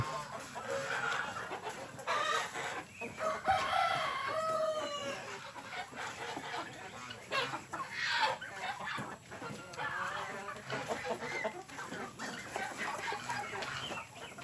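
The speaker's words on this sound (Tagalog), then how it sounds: "Ito yung manok." Chickens on a rainy farm, mostly tailless hens, cluck steadily at close range, with a rooster crowing partway through over continuous background noise.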